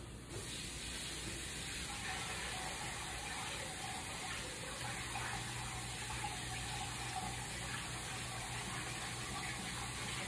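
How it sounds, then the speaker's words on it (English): Kettle water pours over cabbage in a hot pan, a steady hissing, rushing wash of water and steam that stays close and even for about ten seconds, with no talking. "Turn up the heat, add some of that kettle water"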